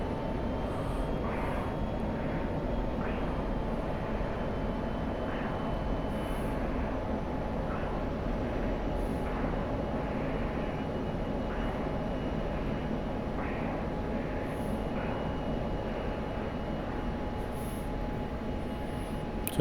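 Steady, continuous jet engine roar of an F-16 flying in the DCS flight simulator, a constant drone with faint periodic ticks layered over it and no voices.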